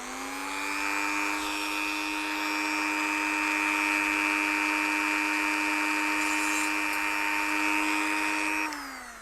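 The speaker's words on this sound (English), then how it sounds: "Going to drill from the underside." A power drill whirs steadily at close range for several seconds, drilling up through the underside of model railway track, its pitch holding even before it winds down at the end.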